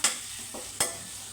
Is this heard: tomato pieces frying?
yes